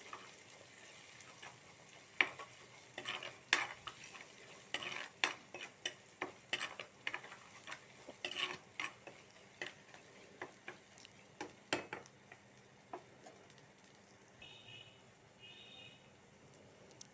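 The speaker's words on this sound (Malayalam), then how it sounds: "മുളക് പൊടി ഇട്ട് കൊടുക്കാം. അത് നന്നായിട്ട് ഇളക്കി മിക്സ് ചെയ്ത് നന്നായിട്ട് മൂപ്പിച്ചെടുക്കാം." Chili powder stirred and fried in a pan for a Kerala-style fish curry: repeated close clicks and scrapes of a spoon against the pan over a soft, steady sizzle, with no speech.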